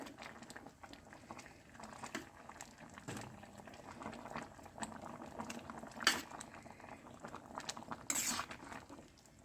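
Cassava simmering in a covered pot of boiling water on a stovetop, a steady soft bubbling and rattling throughout with occasional louder clinks of the lid or a utensil against the pot.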